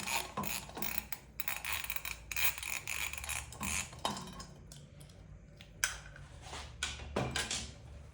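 Two M8 bolts on a motorcycle headlight mount being removed with a 13mm socket, with irregular metallic clicks, ratcheting and clanks at close range, separated by brief quiet gaps.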